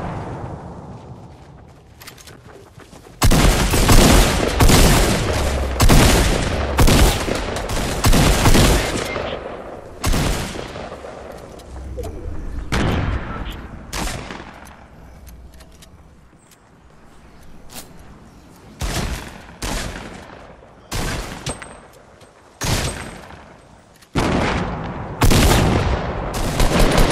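Gunfire from the video game Fortnite crackles close and loud, starting with a dense stretch of rapid shots. Sparser single cracks and short bursts follow, separated by quieter gaps.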